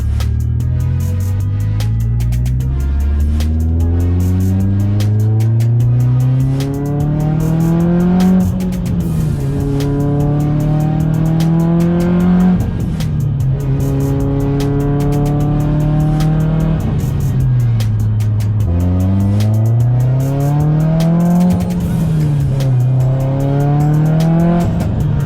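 A Mitsubishi Lancer Evolution's engine roars loudly as it accelerates through several gears, pitch climbing and dropping with each shift, a raspy loud exhaust note throughout.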